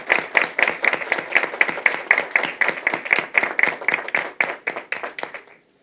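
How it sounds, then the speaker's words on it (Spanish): An audience at a human rights seminar claps for a doctor who has just spoken, a rhythmic, loud round of near-unison hand claps at a steady beat that ends abruptly. "yo voy a pedir otro aplauso para la doctora"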